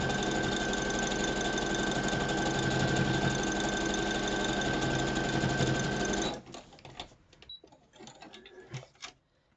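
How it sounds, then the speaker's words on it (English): A sewing machine stitches a fabric ruffle with a fast, even mechanical whir for about six seconds, then stops, leaving a few faint clicks and handling sounds. "I'm going to sew up a quick ruffle."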